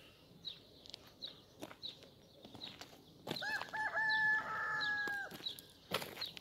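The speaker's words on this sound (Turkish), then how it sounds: "Bu saat şimdi saat 5'te öttüğüne göre bu horozun kesilmesi yakındır." A rooster crows once at 5 o'clock at moderate distance in a village, a long drawn-out call over quiet outdoor ambience with scattered soft clucks and bird chirps.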